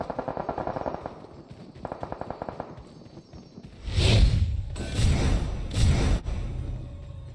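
Gunfire in PUBG Mobile plays as rapid automatic bursts, first thin and quick, then heavy, booming single shots that hit loud and close.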